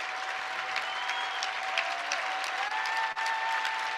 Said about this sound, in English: And you can hear the applause.